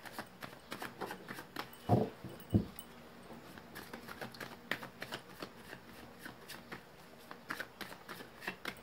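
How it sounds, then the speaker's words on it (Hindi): Tarot cards being shuffled by hand in a quiet room, a steady run of soft riffling and flicking strokes with two louder slaps near the start and no voices. "मैंने स्टार्ट कर दी है कार्ड्स की सफलिंग गाइस"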